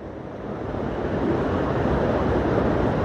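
Water rushing down rocks at Kurangani waterfall, a loud, dense, continuous roar of flowing water heard close, with some wind buffeting on the microphone and no talking.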